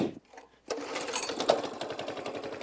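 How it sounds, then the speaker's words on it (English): A Coleman CT200U four-stroke mini bike engine starting on full choke in chilly weather: a brief pull, a short pause, then the small engine catches and runs with a rapid, even putter close by. "Oh, 4 strokes are awesome. You only have to pull them over once."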